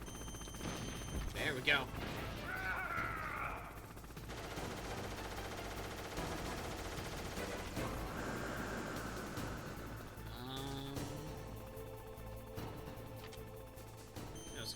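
Hind D helicopter gunfire in Metal Gear Solid, rapid machine-gun bursts and impacts against a steady rotor-like drone, with a person talking over the action.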